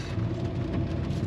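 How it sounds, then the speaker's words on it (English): Steady rain falls continuously during a rainy day, a dense, even low rumbling wash of water that holds at a constant level from start to finish with no voices. "It's still raining"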